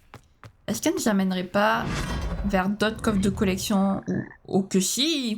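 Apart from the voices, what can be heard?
frog croaking in Hogwarts Legacy video game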